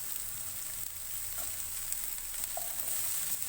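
Cabbage and capsicum fry in a pan over a medium flame, giving a steady, even sizzle with faint stirring clicks now and then and no voices.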